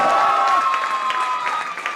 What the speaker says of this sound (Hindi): जोरदार ताली से हम स्वागत करेंगे मिस अंजुम खातून।